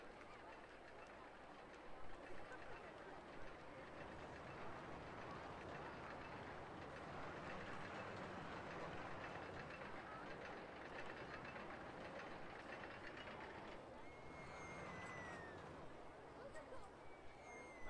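Roller coaster trains running in RollerCoaster Tycoon 2 give a faint, steady rolling rumble of track noise, with scattered honking-like squeals and clicks from the park, under occasional talk.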